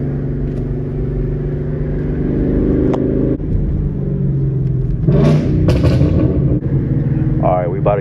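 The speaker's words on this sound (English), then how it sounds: "Alright, so first gear, little first gear downshift." A loud backfiring 5.0 car idles and rumbles close by in first gear, with sharp cracking pops and exhaust bursts during a downshift, and a voice speaking over the engine.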